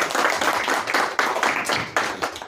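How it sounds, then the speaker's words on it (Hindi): An audience at a political party gathering in India claps during a garlanding ceremony, a short burst of close, busy clapping. "तालियों के साथ।"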